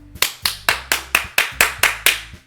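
Slow, evenly spaced handclaps in the video game Doki Doki Literature Club, about nine crisp claps with short gaps between them, close and clear with no talking.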